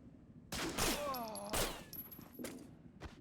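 Gunfire in a shooter video game: a few sharp, loud shots and bursts at close range, separated by short gaps, with no talk over them.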